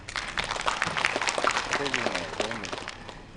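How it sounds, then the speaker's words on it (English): Applause from an audience at a Manipuri cinema golden jubilee celebration, a dense wash of clapping with voices mixed in, steady throughout. "I think the government needs a hand clap. Please applause."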